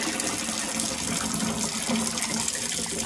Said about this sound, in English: Pour it back into the bag, because we're going to add cold water to it anyway.